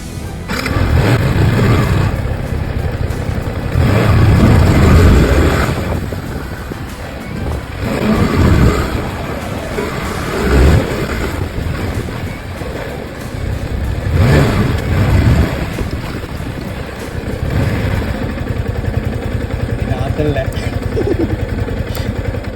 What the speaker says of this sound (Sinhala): සදෙව්ලගේ අයියගේ යාළුවෙක්ගේ R50 එකක් ඇවිල්ලා තිබ්බා. ආසාවට වගේ ඉල්ලගෙන ඇවිල්ලා චුට්ටක් පැද්දා.